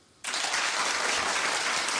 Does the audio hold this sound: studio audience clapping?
yes